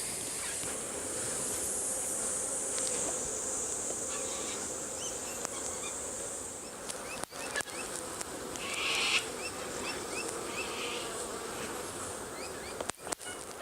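Honey bees buzz around an open beehive, a steady dense drone with individual bees zipping close past, plus a few sharp handling knocks near the end.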